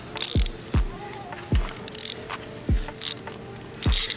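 A 5/8 socket wrench ratchets in five or six evenly spaced bursts of clicking, close and loud, with short pauses between strokes.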